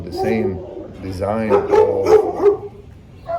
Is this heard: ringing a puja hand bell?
no